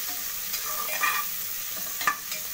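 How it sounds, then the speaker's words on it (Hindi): Onions frying in a pan for spiced egg rice, a close steady sizzle broken by a couple of spoon-stirring scrapes and crackling bursts, with no talking. "प्याज को हम अच्छी तरह से लाल होने तक इसे कुक करेंगे।"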